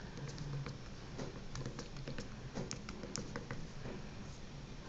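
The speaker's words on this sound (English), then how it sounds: "As you can see, I'm bad at one-hand typing," One-handed typing on the physical keyboard of a Kyocera Rise phone: quiet, irregular clicks and taps in quick clusters, close by, with no speech.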